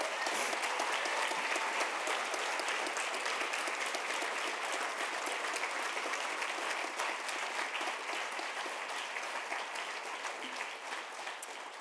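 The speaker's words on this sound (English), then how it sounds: "A big round of applause for all of our talkers this evening." Sustained applause from a large audience at a speaker talks event, steady and loud for the full stretch, tapering slightly near the end.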